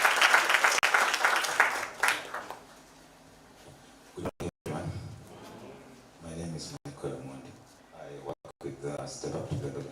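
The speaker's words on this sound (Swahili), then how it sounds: "Mpige makofi tafadhali." An audience applauds for about two and a half seconds in a dense, steady burst at a youth summit, then the clapping cuts off and a voice begins speaking alone.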